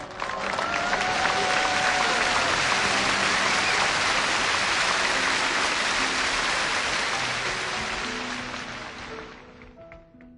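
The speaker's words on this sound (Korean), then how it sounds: "여러분, 뜨거운 격려의 박수 부탁드리겠습니다." A church congregation at a Wednesday evening service breaks into dense, sustained applause, a steady roar of many hands that holds for several seconds before fading out, with faint voices emerging at the end.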